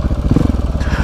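A motorcycle engine revs loudly and close by on an offroad outing, with a rapid pulsing throb over about one second and no speech.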